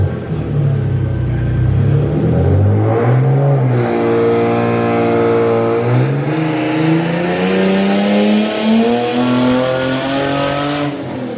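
A turbocharged Nissan 350Z engine on a dyno, loud and close, revs climbing steadily through a full pull with a rising tone, then easing and building again, alone without talk.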